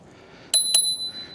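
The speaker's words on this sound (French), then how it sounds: "la sonnette qui est dans la poignée de frein" A bicycle-style bell built into the brake lever of a Kukirin A1 electric scooter rings twice in quick succession, bright and close, with no talking over it.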